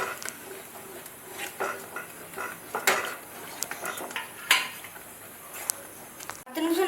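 A spoon scrapes and clinks against a pan while a spiced mixture with sugar, salt, pepper, garam masala and chili powder is stirred, with irregular metallic knocks and scraping strokes, close and fairly quiet.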